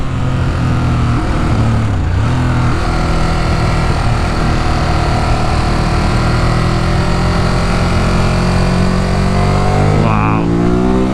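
A 2018 Ducati Monster 821 motorcycle accelerates hard in second gear, its engine loud and close with a continuous rising drone, wind rushing over it and a shift in pitch near the end.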